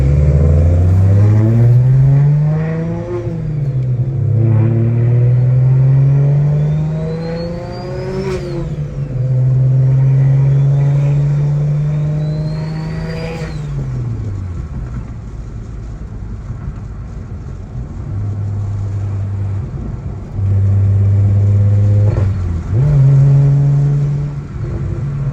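Single-turbo BMW 335i engine revving hard during a night drive, with loud rising and falling rev sweeps, gear changes and a turbo whistle, then steadier cruising drone and further short revs, no talking.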